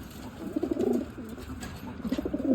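King pigeons coo in soft, low, rolling bursts from close by, with two or three throaty phrases separated by short pauses and no talking.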